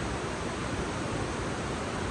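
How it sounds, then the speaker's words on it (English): A waterfall rushing on a cold morning near chunks of ice, a steady, dense roar of falling water with no pauses or other sounds. "See the waterfall this morning."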